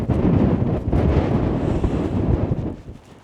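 Strong wind buffets the microphone on an exposed mountain summit, a loud, rough roar that gusts steadily and then eases off toward the end.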